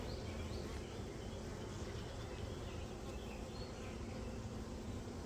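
Honey bees from two combined packages buzzing over hive frames, a dense continuous drone with no pauses, close and steady throughout.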